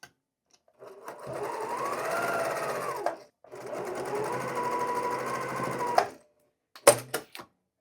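A sewing machine stitches quilt patchwork pieces in two long steady runs of about two and three seconds each, with a short pause between them, followed by a few brief mechanical clicks.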